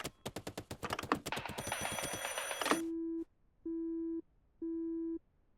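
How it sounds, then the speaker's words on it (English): A telephone in the Drive Beyond Horizons driving game sounds off: a dense burst of rapid clicks and noise gives way to three evenly spaced, steady electronic tones, each about half a second long, clear and close with no talk. "The phone's ringing."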